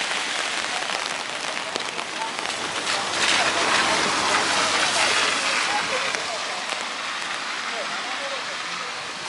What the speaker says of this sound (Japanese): 雨がだんだんひどくなるみた